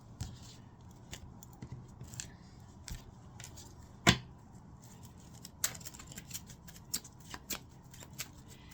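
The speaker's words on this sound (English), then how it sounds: "let me see if I can get some more cards here." Tarot cards being shuffled and drawn by hand, close and quiet, with soft riffling and sliding interrupted by sharper snaps and flicks spread irregularly throughout, no talk.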